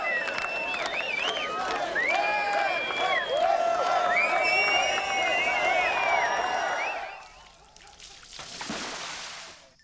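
Angry crowd of Chateauguay residents venting at a Mohawk warrior effigy, a loud dense roar of shouting and jeering voices that fades out near the end.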